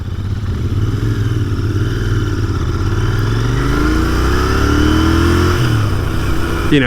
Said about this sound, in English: I gotta do a lot of twisting of the throttle to